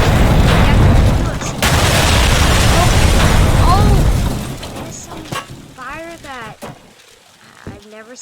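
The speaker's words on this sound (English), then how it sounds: "Do the vehicles in this game now explode?" A vehicle exploding in the video game Teardown, a loud close roaring blast with crashing debris that fades over several seconds while a person talks over it.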